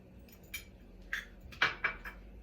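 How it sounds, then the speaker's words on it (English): A few faint, close clinks of a spoon against a cup as a spoonful of sugar goes into a caramel cappuccino, in short separate taps in a quiet kitchen. "And then I also take maybe 1 spoon of sugar."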